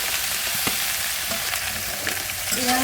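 Okra with onion and chilli frying in a pan at home, producing a continuous close sizzle with a few scraping stirs of a spatula and no talking.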